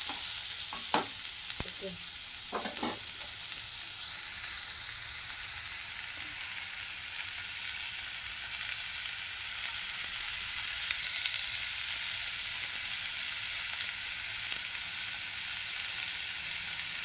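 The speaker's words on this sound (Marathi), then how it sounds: "आपला इकडे कांदा फ्राय होतोय." Onion frying in a pan while being stirred: a steady, close sizzle and hiss throughout, with a few scraping stirs near the start, and a brief spoken word early on.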